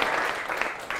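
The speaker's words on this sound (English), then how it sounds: "Give her a clap." A primary school class claps briefly during an English lesson, a short soft burst of scattered hand claps in a classroom.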